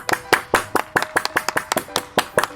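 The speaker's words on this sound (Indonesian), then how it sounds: "kita tepuk tangan dulu" A few people clap their hands in brief, uneven bursts, the claps sounding close and crisp, with voices talking underneath.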